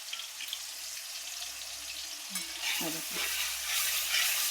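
Masala roasting in oil in a pan gives a steady broadband sizzle, with a few soft scraping and stirring knocks near the end and no voices.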